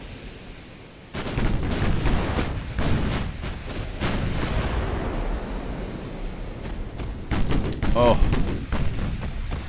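Naval shell hits in Ultimate Admiral: Dreadnoughts, a cruiser battle: a series of heavy booming impacts and bursts over a rumbling sea-like background, with a brief voiced exclamation partway through.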